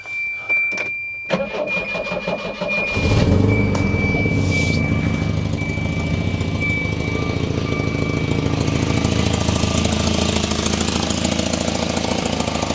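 A 1985 Volvo 245 engine cranks briefly, catches and roars to life, then settles into a steady loud idle with a faint high whine over it.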